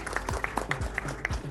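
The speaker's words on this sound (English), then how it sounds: "we can give him a round of applause" Applause for a newly elected utilities board member at a city board meeting, a brief scattering of claps from a small audience with fairly distinct individual hand strikes.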